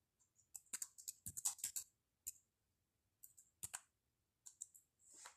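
Someone types on a computer keyboard up close: quick bursts of crisp key clicks separated by short pauses, with a few isolated taps, faint and with no talk.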